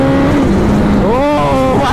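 A Suzuki Hayabusa motorcycle engine runs close and loud, its pitch dipping and then rising in quick revving swells, with someone talking under it.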